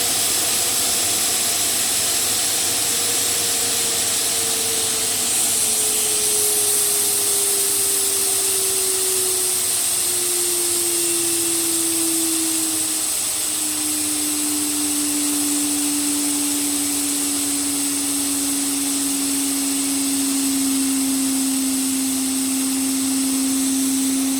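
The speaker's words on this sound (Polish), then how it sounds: "Włączamy teraz odkurzacz." A vacuum cleaner runs loudly and steadily, its motor whine sliding downward in pitch before settling, with a high hiss over a constant airflow roar and no talking.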